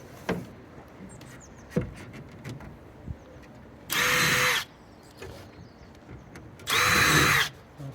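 Two short bursts of a power drill whirring loudly as it pre-drills a fence panel, with light knocks and handling noises between them.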